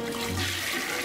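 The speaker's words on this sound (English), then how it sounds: "Someone's flushing the toilet like crazy, Galf." A toilet flushing in the video game Zenith, a steady rushing swirl of water that holds at constant loudness through the whole second.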